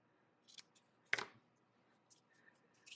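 Scissors trimming ribbon loops for a card project. A single crisp, close snip stands out in a quiet room, with a few faint handling clicks and rustles around it.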